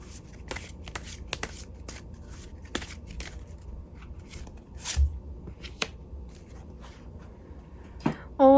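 A deck of tarot cards is shuffled up close, giving a continuous papery riffling with crisp flicks and snaps, heard on its own with a brief touch of voice at the end.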